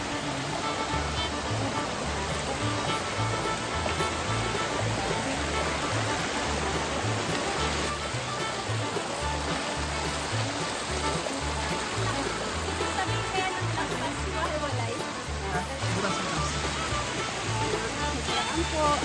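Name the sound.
Lactas Falls waterfall in Dingalan, Aurora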